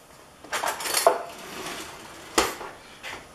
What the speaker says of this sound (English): So, I pulled these out of the pan and they're done.